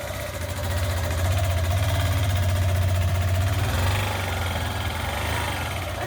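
A motorcycle engine runs steadily, a loud continuous low drone that swells slightly in the middle and then settles, with no speech over it.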